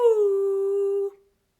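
A voice sustains a steady hooting "ooh" tone, imitating a slide whistle, holding the pitch briefly before cutting off into silence.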